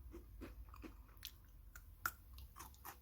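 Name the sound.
crunchy treat being bitten and chewed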